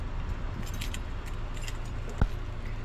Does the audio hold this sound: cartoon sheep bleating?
no